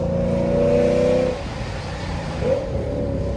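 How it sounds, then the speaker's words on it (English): A race car accelerates hard on a track, its engine note rising loud and close before dropping away, then picking up again briefly. "I could just hear his car just go"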